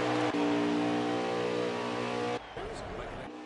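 Damaged race car engine from a racing video game, a loud steady buzzing drone that cuts abruptly to a rougher, noisier rasp near the end, with a commentator talking over it.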